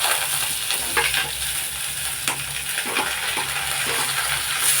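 Onions frying in a pan for gravy, with a steady close sizzle and occasional stirring scrapes and clinks.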